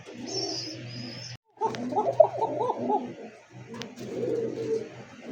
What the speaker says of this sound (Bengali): এই কবুতর যে এত ডাকা ডাকে, ককা কবুতর কিন্তু রেয়ার একটা ডাক